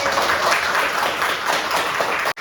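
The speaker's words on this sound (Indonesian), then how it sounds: "Tepuk tangan." A classroom of students applauds together, a dense, fairly loud patter of many hands clapping at once, steady for about two seconds before cutting off abruptly.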